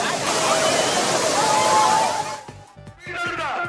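Thirparappu waterfall pours in a continuous heavy rush of water where tourists are bathing, then the roar drops away and a voice starts talking over quieter splashing.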